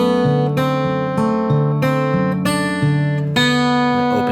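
Guitar melody from the solo of a song, single plucked notes in a syncopated rhythm, each ringing clearly over sustained lower notes, close and fairly loud with no talking.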